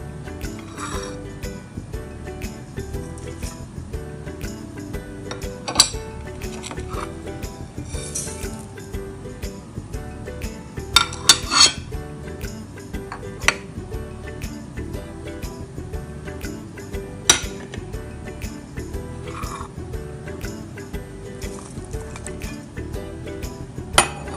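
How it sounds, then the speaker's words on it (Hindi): Ingredients going into a bowl for mince cutlets: half a kilo of goat mince, an egg, half a tomato and garlic, with scattered clinks and knocks against the bowl over a steady low background, no talking. "अब इस हम बाउल में हम सारी चीज़ें ऐड करते हैं"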